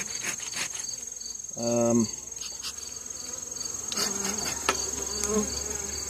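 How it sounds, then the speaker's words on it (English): Honey bees swarm and buzz over the top of an open hive box, a steady insect drone with one louder close pass of a bee near the ear, and a few faint knocks of handling. "So we got a lot of bees up here on top."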